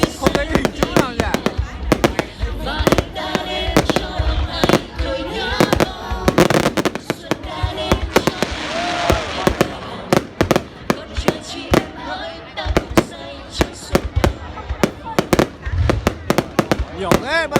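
Fireworks bursting overhead at a display in Kinh Môn, Hải Dương province, Vietnam: dense rapid volleys of sharp cracks and booms, some close and loud, forming a near-continuous barrage.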